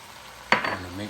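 Seasoned vegetables being mixed for a vegetarian casserole, with one brief burst of scraping and stirring about midway, then a softer rustle trailing off.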